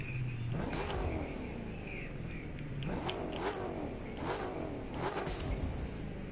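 A Jeep Grand Cherokee's engine revs in The Crew 2 video game, several rising rev bursts over a continuous rumble, fairly quiet overall.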